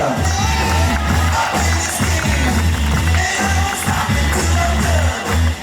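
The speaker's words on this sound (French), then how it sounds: "Un maximum de bruit pour Louane" At a prom, a large crowd cheers and shouts at full volume, a dense continuous roar with a steady thumping beat underneath and occasional whoops.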